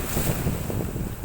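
Ocean waves washing ashore at Manila Bay's Dolomite Beach, a steady broadband surf wash with gusting wind noise on the microphone, loud and continuous with no voices.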